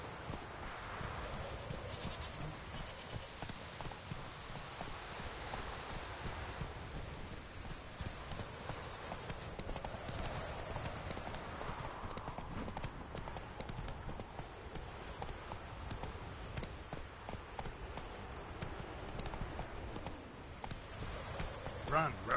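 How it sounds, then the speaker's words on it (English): Horse galloping in the video game The Witcher 3: a steady run of hoof clip-clops over a continuous outdoor wind and rustle bed, with a voice speaking at points throughout. "Run, Roach."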